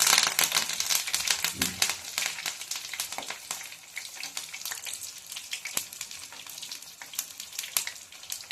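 Spinach and cauliflower pieces frying in a pan for dry palak gobi 65, a dense crackling sizzle full of rapid sharp pops and spatters, loud and close throughout, no voices.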